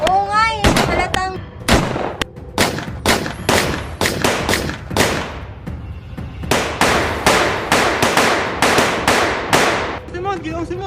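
Repeated sharp explosive bangs in a short film adaptation of El Filibusterismo, a rapid irregular string of loud cracks and blasts with crackling bursts, fairly close and dominating throughout.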